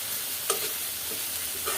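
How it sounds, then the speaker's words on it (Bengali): Chanda fish frying in a pan gives a steady, close sizzle of hot oil, with a few faint clicks and stirring scrapes rising briefly above it. "মাছটা ভাজা হয়ে গেছে।"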